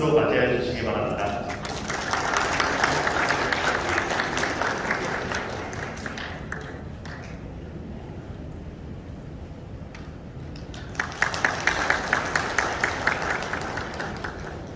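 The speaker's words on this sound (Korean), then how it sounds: "어머님을 큰 박수로 맞이해 주시기 바랍니다" Wedding guests in a wedding hall clap for the groom's mother, a full round of applause that thins out midway, then swells again with crisp rhythmic claps; some voices murmur beneath.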